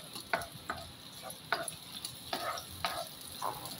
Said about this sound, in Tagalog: Igisa muna natin ang bawang, then sibuyas, at isunod na rin natin ang kamatis.